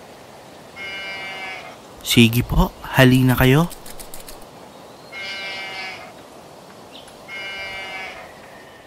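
Sheep bleat in short harmonic bursts at a distance, with a voice calling the flock in Tagalog between them, all in a cartoon retelling of Noah's Ark.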